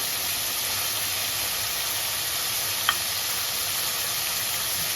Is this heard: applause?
no